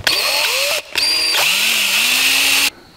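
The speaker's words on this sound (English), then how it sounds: "It's time to drill some holes." A power drill boring holes into a wooden beam for a wooden A-frame gantry crane: two loud, close bursts of whining motor, the first brief and the second longer, separated by a short pause.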